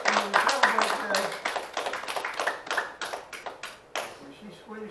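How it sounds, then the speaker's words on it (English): A church congregation claps in praise at a Sunday service, a run of quick uneven hand claps with voices and a sung or spoken tone underneath, dense at first and thinning toward the end. "Let's give the Lord a hand clap of praise for having something to celebrate today."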